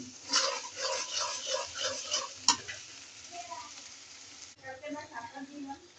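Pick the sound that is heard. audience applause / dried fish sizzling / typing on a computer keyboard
dried fish sizzling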